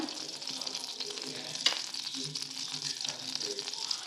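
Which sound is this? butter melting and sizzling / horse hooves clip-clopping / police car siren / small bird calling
butter melting and sizzling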